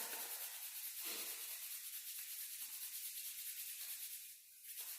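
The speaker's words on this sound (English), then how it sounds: "You can rub the hands together a little bit." Hands rubbed together to build warmth during a yoga flow, a soft, steady broadband friction that runs nearly continuously for several seconds, close and quiet with no talking.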